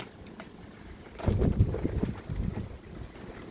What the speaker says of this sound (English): it's very windy and it is raining again